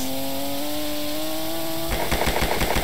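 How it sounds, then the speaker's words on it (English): In a video game, a rising engine drone gives way to a rapid burst of loud, repeated gunfire. "The gunshot..."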